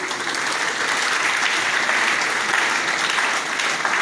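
A full lecture hall audience at a university inaugural lecture applauds steadily, a loud, dense and even wash of clapping that holds for the whole stretch without talk.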